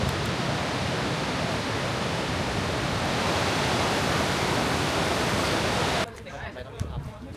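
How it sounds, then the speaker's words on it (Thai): A waterfall in Norway roars as a loud, dense, steady rush of water for about six seconds, then cuts off abruptly to quieter background sound. "เป็นน้ำตก"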